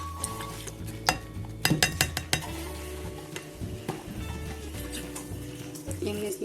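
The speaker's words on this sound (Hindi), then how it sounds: "पहले हम अपनी क्रीम को मिक्स करके रख लेते हैं" Cream being stirred in a bowl for a creamy fruit chaat, with spoon clinks and scraping against the dish, light utensil knocks, and voices in the background.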